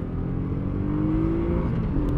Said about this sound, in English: 55 in second gear at about the red line, so not shabby for an old 1989 bike.